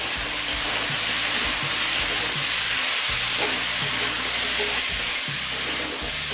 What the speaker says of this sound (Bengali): এখন এই সবজি সিদ্ধ হয়ে আসা পর্যন্ত ভেজে নেব